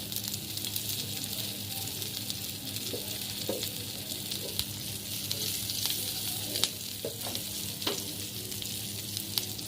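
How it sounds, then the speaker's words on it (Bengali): Ginger, chili and asafoetida sizzle steadily in hot mustard oil, a close crackling hiss with scattered pops and spatters throughout. "গরম তেলের মধ্যে আমি চিড়ে রাখা আদা লঙ্কা দিয়ে দেব"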